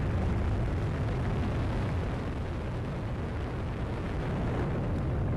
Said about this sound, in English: And the RD-180 engine roars to life.